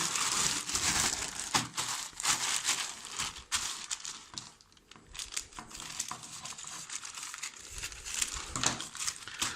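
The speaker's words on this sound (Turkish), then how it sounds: "Paketleri teker teker açalım." Plastic AliExpress shipping packages being torn open and unwrapped, close crinkling, rustling and crunching in irregular bursts with a brief quieter pause midway.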